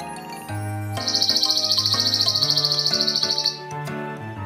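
A sparrow's rapid, continuous twittering chirps run for about two and a half seconds over a steady background tune with chimes.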